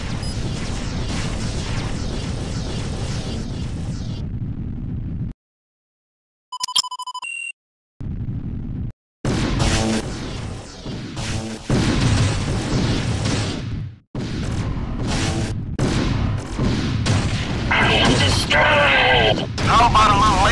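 Gunfire and explosions in the space-combat video game Wing Commander: Prophecy, loud bursts and blasts broken by short silences, with electronic beeps and bursts of radio chatter between them.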